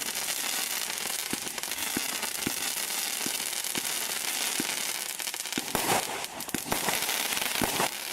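Aldi fireworks crackling away in a dense, sizzling spray, with scattered sharp pops and bangs standing out from the continuous fizz at moderate distance.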